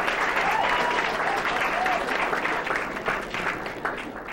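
Sustained audience applause at a company launch event, dense and steady clapping from a crowd that fades slightly toward the end, with no talking over it.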